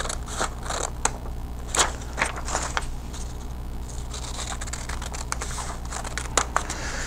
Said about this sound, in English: I'm going to take a scissors and cut one little triangle out of that